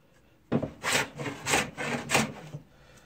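A freshly tuned hand plane with a restored, once-rusty iron takes thin wood shavings in four or five quick rasping strokes, close and loud, after a brief silence.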